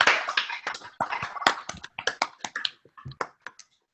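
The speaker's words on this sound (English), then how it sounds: "my wife and my daughter's clapping too" Several pairs of hands clap in scattered, uneven bursts over a video call, close and crisp, gradually thinning toward the end.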